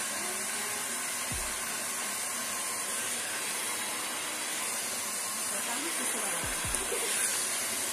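A handheld hair blower drying a child's hair at home runs as a steady broadband hiss and whoosh through the whole stretch, fairly close and even, with faint speech in the background.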